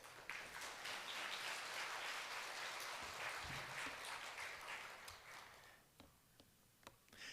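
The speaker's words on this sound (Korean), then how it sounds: "우리 목사님 나오실 때 큰 박수로 환영하겠습니다." A church congregation claps to welcome the pastor, a broad, even wave of applause that holds for about five seconds before thinning into a few scattered, faint claps.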